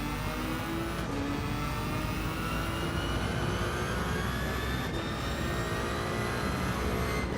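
A Ferrari Gr.1 prototype race car in Gran Turismo 7 screams at high revs. The engine note is loud and continuous, with rising harmonic sweeps broken by quick gear changes at two points.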